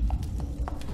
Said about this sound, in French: ces bruits de pas me donnent des frissons